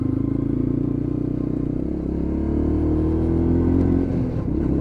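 A Lexmoto LXR 125 with a liquid-cooled engine revs loudly and steadily up close, with a rising pitch that sags near the end. No one speaks.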